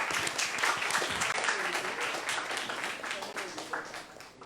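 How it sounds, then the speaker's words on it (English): An audience at a startup pitching final applauds a pitching team, dense clapping at full strength that gradually thins out and softens toward the end. "Please give a big clap to them."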